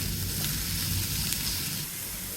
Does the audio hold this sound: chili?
yes